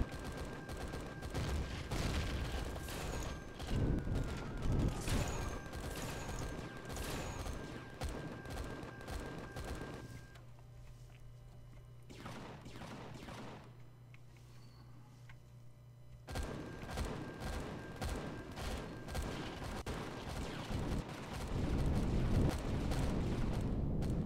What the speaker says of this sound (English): I love the way the weapons just try to shoot right through the station until they destroy everything that's in the path.